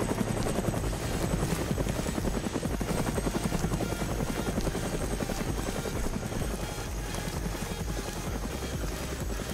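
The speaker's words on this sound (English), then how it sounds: "I know that darn helicopter is so loud." Steady, close helicopter rotor chop in a video game fills the scene, a dense rhythmic thrum that never lets up.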